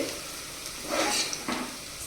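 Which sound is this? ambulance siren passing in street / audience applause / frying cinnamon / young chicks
frying cinnamon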